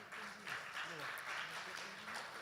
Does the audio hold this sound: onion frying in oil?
no